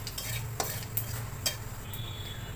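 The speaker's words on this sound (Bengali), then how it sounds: "5 ফোড়ন আর শুকনো লঙ্কা দিয়ে ফোড়নটাকে একটু ভাজা ভাজা হতে দেব" Panch phoron spices and dried chilli fry in hot oil with a steady close sizzle, broken by a few sharp clicks of a spoon stirring against the pan.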